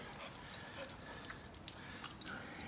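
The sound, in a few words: dog wandering into a car repair shop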